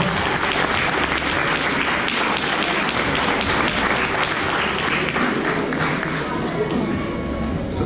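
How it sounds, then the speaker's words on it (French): Steady, vigorous applause from the audience at a Christmas-party magic show follows a trick, the clapping crowd filling the room evenly throughout, with some voices mixed in. "On applaudit bien fort."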